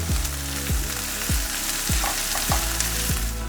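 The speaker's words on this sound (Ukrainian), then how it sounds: "Обсмажуємо на невеличкому вогні до прозорості цибулі." Onion and pepper frying in a pan over low heat, a dense steady sizzle with repeated stirring strokes at a slow regular pace, close and moderately loud, no voices.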